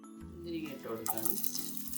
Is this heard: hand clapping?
no